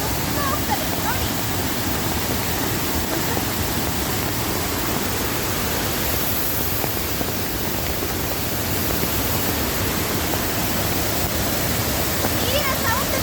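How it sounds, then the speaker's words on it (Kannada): A rain-fed stream near Kalasa in the Chikmagalur hills roars with loud, continuous rushing water, close by and unbroken throughout. "ನೀರಿನ ಸೌಂಡ್ ತುಂಬಾ ಜೋರಿದೆ"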